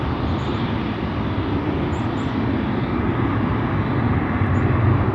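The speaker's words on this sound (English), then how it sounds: "the first departure here looks to become an A220" Airbus A220 airliner of Croatia Airlines departing Schiphol Airport, a steady broadband jet roar that holds loud and continuous throughout, slightly swelling toward the end.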